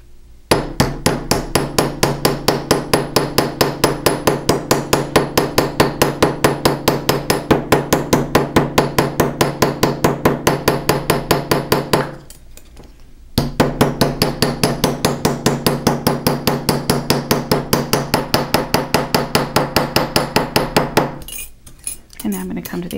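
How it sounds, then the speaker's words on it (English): Rapid, steady hammer blows ring against a metal sheet in a fast even rhythm, close and loud, pausing briefly midway before continuing. "My hammer is striking in the same location every time"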